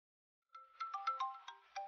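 A telephone ringtone for an incoming call starts after a half-second of silence, a bright electronic melody of quick repeated tones, clear and close.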